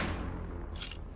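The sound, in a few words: gunshot sound effect in audio story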